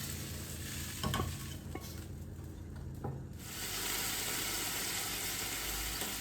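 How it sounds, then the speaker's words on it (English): Buckwheat pierogi fry in butter in a pan, a steady close sizzle with a few stirring scrapes and clinks, the frying growing fuller and louder in the second half. "So you want to fry them for about a minute each side perhaps."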